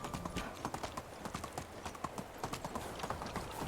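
Horse hooves clip-clopping at a steady riding gait through a medieval village in Medieval Dynasty, rhythmic and fairly close, with a faint voice briefly in the background.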